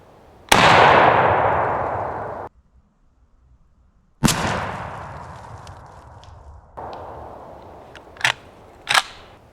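A shotgun loaded with Longbeard XR number 6 lead shells fires at a 30-yard pattern target outdoors: a loud blast with a long ringing decay, then after a gap a second blast, followed by a few sharp metallic clicks and clanks.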